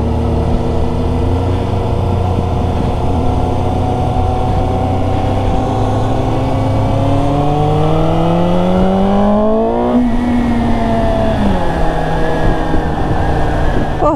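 A car pulls away from a car meet in Cholet, its engine droning loudly up close as the pitch rises steadily through the gears, then drops sharply and climbs again.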